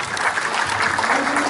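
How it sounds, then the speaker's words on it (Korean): An audience at a fire-safety training session for academy and tutoring-centre operators applauds to welcome a speaker, a short burst of steady group clapping with a faint voice murmuring underneath. "큰 박수로 환영해 주시기 바랍니다"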